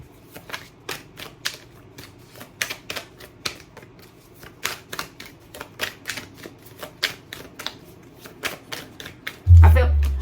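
Tarot cards shuffled by hand in a steady run of crisp, riffling flicks, fairly close and clear, ending in a louder thump at the close.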